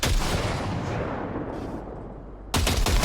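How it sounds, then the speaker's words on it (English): Short burst of gunfire sprayed into a pile of junk in Cyberpunk 2077, loud and close, with a dense crackling blast that fades and then returns as a second sharp burst near the end. "See that pile of junk? Fire a short burst into it."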